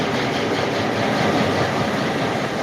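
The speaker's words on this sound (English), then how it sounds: "I love that red, white, and blue engine." Red, white and blue train locomotive rolling past, a steady close rumble of engine and rail noise filling the short stretch without speech.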